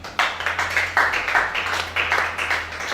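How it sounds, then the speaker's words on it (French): A church congregation at a weekly worship service claps in rhythmic bursts, a moderately close patter of hands repeating roughly every half second over a low steady hum. "Acclame ça."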